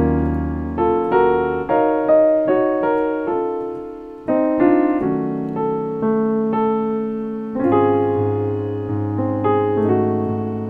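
Piano chords from a Christmas song ring out one after another, each struck clearly and left to sustain, in a slow alternating jazz progression with no voices.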